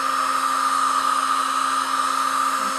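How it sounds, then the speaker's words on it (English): Heat gun blowing hot air steadily over a polyester printmaking plate, a continuous close whooshing roar with a constant whine, unbroken and alone. "I'm passing the heat gun over this plate rather methodically"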